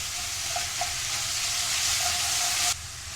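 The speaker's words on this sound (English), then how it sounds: "I'm going to add the garlic butter and put it on low" Garlic butter sizzling in a pan on low heat for a pasta bake, a loud, dense, hissing crackle held steady up close, then dropping suddenly near the end.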